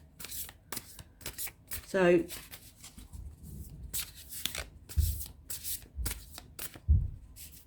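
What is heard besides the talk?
shuffling tarot cards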